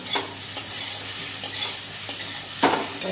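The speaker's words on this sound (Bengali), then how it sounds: "লবণ দিয়েছি, হলুদ দিয়েছি, দিয়ে এটা ভেজে নিলাম ওল আর আলু।" Chunks of elephant foot yam and potato, seasoned with salt and turmeric, fry with a soft, steady sizzle, broken by several sharp scraping strokes of a spatula stirring the pan.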